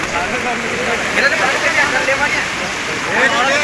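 Floodwater swollen by ongoing rain rushes past a village in a broad, steady roar of turbulent water that holds near and loud throughout, with no voices over it.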